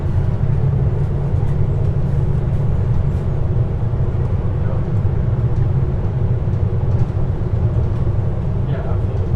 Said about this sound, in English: Please hold on. The train is approaching.